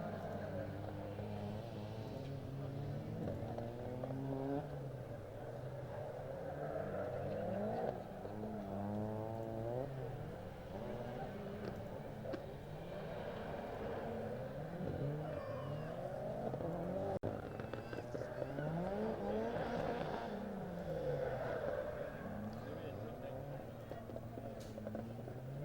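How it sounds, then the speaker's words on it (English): Caterham Sigma race cars roll onto the grid at Donington Park, a continuous layered engine drone with shifting revs from several cars at moderate distance, steady throughout, with faint announcer talk under it. "So the Caterhams who are making their way onto the grid"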